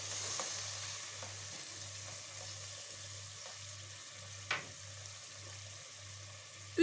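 Spiny squash stew is stirred in a pan after a small glass of water is added: a faint, steady sizzle and simmer with a low hum beneath it and one brief scrape or clink midway.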